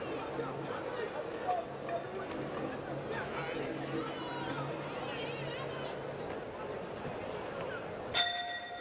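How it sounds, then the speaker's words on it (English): A boxing bell rings once near the end to close a round in an amateur 64kg bout, a sharp ringing clang with sustained tones cutting over steady arena crowd noise and commentator talk. "there's the bell to end a"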